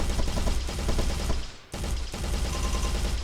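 Automatic gunfire in an FPS video game level, dense continuous full-auto shots in two long bursts split by a brief pause, loud and close with no talking.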